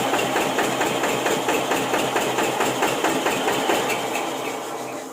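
Homemade ride-on tractor engine fitted with disc brakes, running with a loud, steady rhythmic clatter that fades slightly toward the end as it is being shut off.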